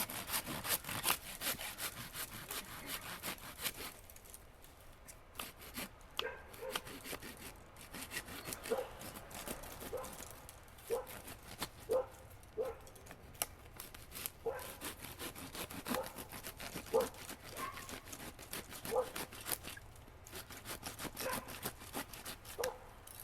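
A coarse-bladed hand saw cuts into the root ball of a container-grown Japanese maple, rasping in steady back-and-forth strokes at close range, with brief quieter pauses between bursts.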